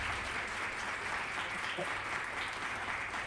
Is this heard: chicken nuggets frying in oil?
no